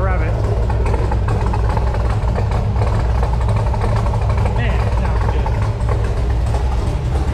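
An LS V8 with an aftermarket cam idles with a deep, continuous, loping rumble close by, while a voice talks over it.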